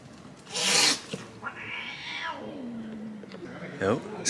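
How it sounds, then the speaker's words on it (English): Street cats squabble in Dubrovnik's old town, with a harsh hiss, a drawn-out yowl and wavering growls. A person talks over the cats partway through. "Cat Wars on the streets of Dubrovnik."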